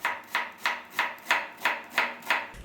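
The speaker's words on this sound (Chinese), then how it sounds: "洋葱洗干净了，切成洋葱末" A kitchen knife mincing onion strikes a cutting board in eight crisp, evenly spaced chops, close and clear with no voices.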